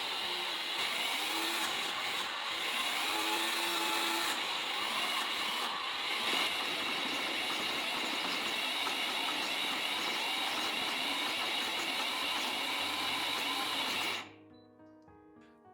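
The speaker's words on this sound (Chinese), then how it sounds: "把芝麻倒入破壁机中，打成细腻的芝麻糊。" A high-speed blender grinds sesame seeds into a fine paste, a loud, even whirring roar that runs steadily for about fourteen seconds before cutting off abruptly.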